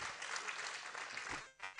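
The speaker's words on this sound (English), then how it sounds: "Is that all you've got to applaud? A bigger one for them." Congress audience applauding, a dense wash of clapping from many hands that fills the room, then briefly dips and swells again.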